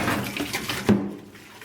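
Hot water running and splashing as a paint brush is rinsed out after soaking, part of a fibreglass boat floor repair; a steady close wash with one brief louder splash.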